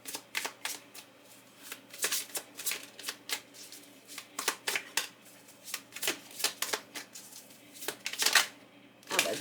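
Tarot cards are shuffled close up in a steady series of quick riffling flutters and soft slaps, repeating rhythmically throughout with no talking.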